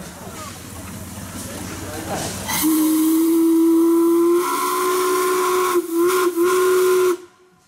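A loud, sustained steam engine whistle blows for several seconds over hissing steam at a pioneer engineers parade, wavering slightly in pitch before cutting off abruptly.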